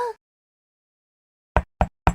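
A dubbed knocking effect for a Thai fan dub of the film Wonder: three crisp, evenly spaced knocks on a door, close and loud, after a brief tone and a stretch of silence.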